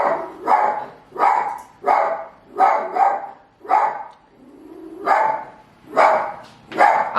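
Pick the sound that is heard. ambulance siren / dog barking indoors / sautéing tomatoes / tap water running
dog barking indoors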